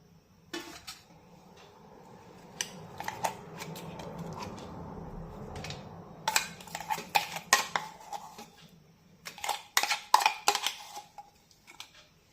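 Spoon and steel plate clatter as sprouted mung bean paste is scraped out of a grinder jar onto a plate, with irregular metallic scrapes, knocks and clinks close by and no talking.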